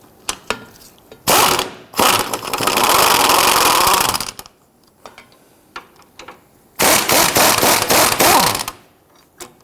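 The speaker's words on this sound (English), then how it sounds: "Using a 15mm swivel socket and extension, we're going to loosen and remove the two sway bar bolts holding the clamp in place" A ratchet turns a 15mm swivel socket on an extension to loosen sway bar bolts on a Dodge Charger, with two long bursts of rapid, loud clicking separated by scattered taps and quiet.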